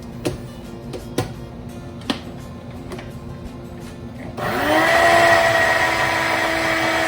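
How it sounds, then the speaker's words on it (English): After a few scattered clicks and taps, a blender whirs up to a loud, steady motor drone while blending a green smoothie, running continuously to the end. "And we're good to go and to blend our smoothie."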